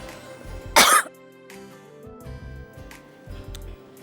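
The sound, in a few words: coughing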